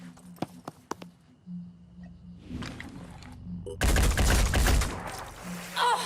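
Gunfire in the tactical video game Phoenix Point: a few sharp isolated shots and thuds, then a loud, dense volley of rapid shots that bursts in partway through and dominates the rest.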